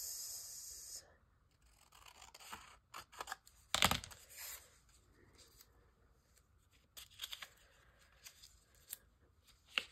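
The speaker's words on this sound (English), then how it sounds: "I'm gonna cut this." Scissors snip through material in a few brief, sharp bursts close to the microphone, with soft rustling and handling noise between cuts and faint talk in the background.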